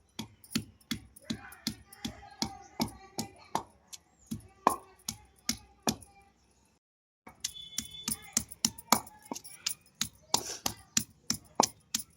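Raw mango pieces pounded coarsely for a chutney of bottle gourd, mango and peanuts, making a steady run of sharp, close thuds at an even rhythm, broken by a short pause before the pounding resumes.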